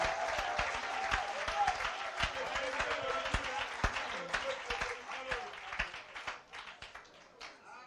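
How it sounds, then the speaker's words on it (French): A church congregation at a Sunday service for a minister's ordination bursts into sustained applause, dense clapping filling the room for several seconds before thinning into scattered claps, with voices mixed in. "Acclamons le Seigneur pour ça."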